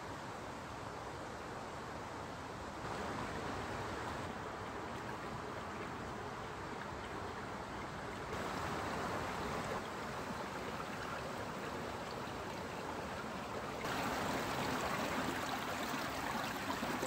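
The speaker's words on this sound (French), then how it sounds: "Le petit ruisseau qui s'écoule sous nos yeux descend gentiment dans la vallée pour rejoindre le Morbihan" A small stream runs down a valley toward the Morbihan with a soft, steady, hissing rush that lasts the whole stretch. No voices are heard over the water.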